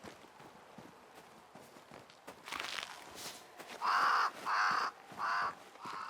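A crow caws in the video game Banishers: Ghosts of New Eden, with four loud, close harsh caws in a steady rhythm following soft footsteps.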